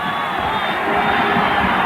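A soccer stadium crowd cheers for Raí at a 1993 US Cup match between the United States and Brazil, a loud, broad roar of many voices with scattered whoops, sustained and swelling slightly toward the end.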